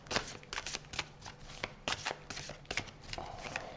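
Playing cards are shuffled close by, a series of crisp riffling bursts and taps in an uneven rhythm.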